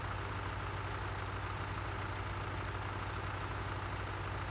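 A tractor engine idles in Farming Simulator 2013, giving a steady, continuous low rumble with a constant hum and no change in pace across the stretch.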